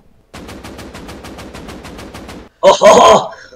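Gunfire in the Minecraft video game: a rapid, even burst of machine-gun shots close and loud for about two seconds, then a short pause and a louder, denser blast of shots.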